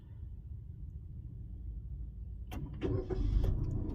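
Suzuki car started remotely: quiet idle ambience, then a short starter crank at about two and a half seconds and an engine settling into a low steady hum.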